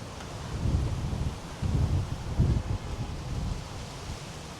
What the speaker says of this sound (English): Very cold today, very windy.